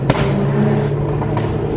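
Sharp popping bangs from a Lamborghini exhaust, a few scattered cracks over the steady drone of a running engine and road noise.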